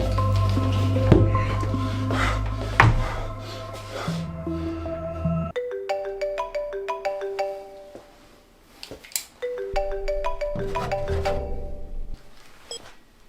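A telephone rings in a repeating electronic tone pattern, close and clear, in bursts separated by short pauses, with some rustling handling noise and no speech.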